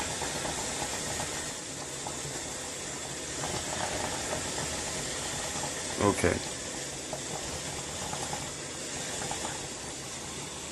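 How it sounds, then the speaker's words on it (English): Steam hissing out from the lid of a DIY home water distiller, a steady broadband rush close by with a louder sputter midway and a brief word spoken. "the steam escaping from this lid"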